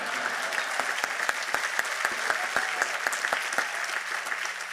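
An audience at an October 7 commemoration gives a round of applause for a congressman. Many hands clap continuously, with sharp individual claps standing out against the steady crowd noise at moderate loudness.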